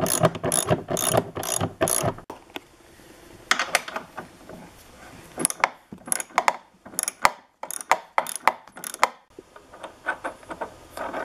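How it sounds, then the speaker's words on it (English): A ratchet wrench clicks in quick bursts while loosening upper A-arm bolts on a car's rear suspension, rapid close pawl ratcheting in several runs separated by short pauses. "The next step is to remove the upper A-arm bolts."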